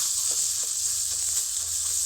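Potato and tomato chops frying in oil in a brand-new wok, a steady bright sizzle hissing continuously up close, with no talking.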